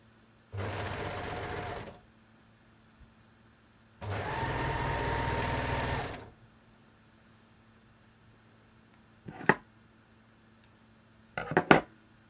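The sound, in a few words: sewing machine stitching a dress shoulder seam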